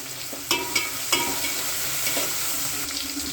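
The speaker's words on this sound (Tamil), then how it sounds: "தக்காளி 1, அதையும் வதக்கிடுவோம்." Tomato sautéing and sizzling in a hot pan, with a few clacks of a spoon stirring, steady crackle up close and no voices.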